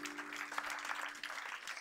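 A church congregation at a French-language seminar applauds in a brief, steady burst of clapping that fills the room at moderate loudness.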